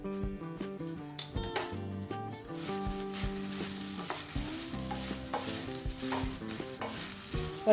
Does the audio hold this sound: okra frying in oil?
yes